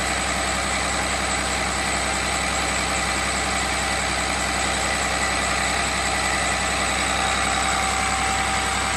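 Cummins 6.7 turbo diesel engine idling at low RPM during a first test run on a hydrogen-based liquid fuel, a steady loud rumble with a constant hum running unbroken throughout, close by and with no voices.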